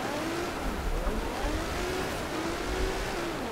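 A car engine in Forza Horizon 4 or Forza 7 revs while drifting, its pitch rising and dipping in repeated sweeping arcs over a constant low rumble, close and moderately loud, with no talking.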